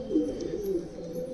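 A purebred pigeon coos softly in a breeding cage, a low throaty call repeated a few times over a short moment with nothing else over it.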